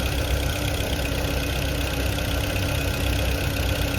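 A Volkswagen engine idles with a misfire, a steady mechanical drone with a faint uneven knock running underneath, close and constant with no talk.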